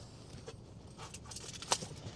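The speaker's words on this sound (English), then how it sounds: "Move my keys." Keys jangle faintly inside a car as someone moves them around, a soft, scattered metallic rustle with one sharper jingle near the end, no talking.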